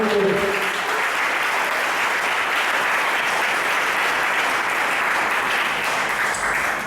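Congregation clapping throughout a church worship service, dense sustained applause from a crowd, loud and steady for several seconds, with no talk over it.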